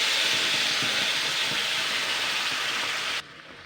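Tomato paste sizzles loudly as it hits frying spices in a pan, a steady broadband hiss that holds without pause and then drops abruptly to a faint simmer near the end.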